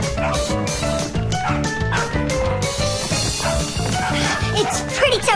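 A cartoon dog yips and barks in quick bursts over a busy, bouncy music track, with voices mixed in.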